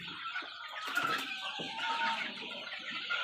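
Vaccinated Sonali chickens and roosters, about 780 birds, on a farm: soft, fairly quiet clucking and short calls overlap in a continuous flock chatter.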